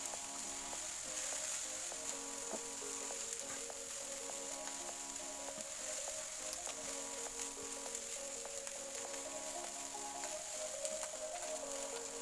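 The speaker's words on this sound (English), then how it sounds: "Yes, I'll continue frying until it is nice and beautiful." Nigerian fried rice with gizzard frying in a pan, giving a steady, quiet sizzle with faint crackles and scattered clinks, continuous throughout with no talk.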